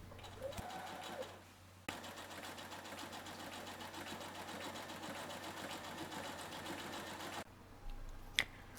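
A sewing machine stitches the side seam of a summer dress at a 1 cm seam allowance, running steadily and close for about six seconds after a brief pause, then stopping and followed by a few faint clicks.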